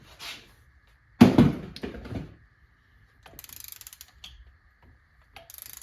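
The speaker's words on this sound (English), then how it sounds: "I'm torquing these at 13 foot-pounds" A torque wrench clicks and ratchets in short bursts while snugging coil-on-plug bolts on a Honda B-series engine, with a louder clack and scrape, then fainter rapid ratchet strokes near and quiet.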